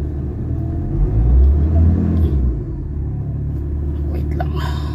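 Ford Ranger 3.2 engine with low power and heavy vibration, idling as a steady, close, loud low rumble with a throbbing undertone that swells briefly before settling, with faint talk over it.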